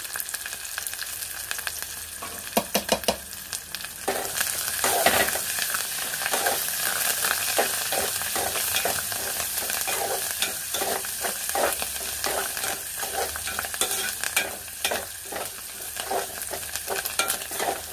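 Tempering with curry leaves frying in a pan for dosakaya papu, a steady close sizzle with frequent scraping stirs throughout, no one speaking.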